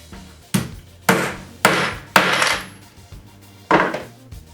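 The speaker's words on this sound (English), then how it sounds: "Then drive the blind nut" A blind nut is hammered into a wooden support for a model airplane: five sharp metallic knocks, four in an even rhythm, then a pause before the last, each ringing briefly.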